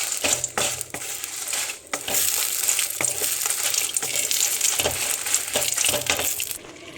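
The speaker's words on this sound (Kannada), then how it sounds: "ಇಲ್ಲಿ ನಾನೀಗ 30ರಿಂದ 35 ಮೆಣಸು ತಗೊಂಡಿದ್ದೇನೆ. ಇದಕ್ಕೆ ಸ್ವಲ್ಪ ಎಣ್ಣೆ ಹಾಕ್ಕೊಡುವ. ಎಣ್ಣೆ ಹಾಕ್ಕೊಂಡು ಸ್ವಲ್ಪ ಹುರ್ಕೊಳ್ಳಿ." About 30 to 35 chili peppers sizzle and fry in oil in a pan, a steady crackling hiss with occasional stirring scrapes and light clinks, close and continuous with no talking.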